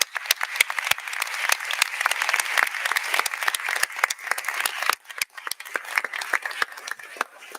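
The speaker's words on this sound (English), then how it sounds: "Let's give the families a round of applause as well." An audience at a medical school white coat ceremony applauds the families, a dense, steady round of clapping throughout that dips briefly near the end before picking back up.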